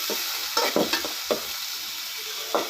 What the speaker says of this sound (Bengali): পেঁয়াজ কুচিটা দিয়ে আমি একটু নাড়াচাড়া দিয়ে দিচ্ছি।